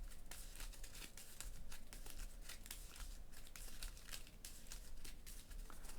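Playing cards being shuffled back into a deck during a tabletop card game, giving a steady stream of riffling, crinkling card noise across the whole stretch, close and fairly quiet, with no one talking.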